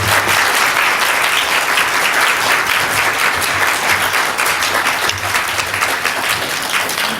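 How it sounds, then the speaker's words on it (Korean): A church congregation gives a pastor thunderous applause as he comes out to preach, a dense, steady roar of many hands clapping that continues without a break, loud and close. "목사님 나오실 때 정말 우레와 같은 박수로 환영해 주시기 바랍니다"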